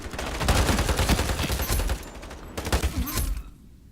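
Rapid bursts of .308 machine gun fire in the shooter game Ironsight, loud and sustained, then a brief pause, another burst, and a quick fade.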